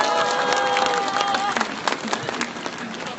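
Dense crowd applause at an outdoor Wednesday rally in Korea over the wartime comfort women issue, loud and continuous with some cheering, and a voice speaking over the clapping early on.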